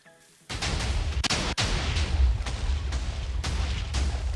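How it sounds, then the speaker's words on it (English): A stacker cannon fires in a block-building video game, a rapid run of loud booming blasts after a brief quiet start, repeating in quick succession for about four seconds. "So obviously the cannon's gonna fire."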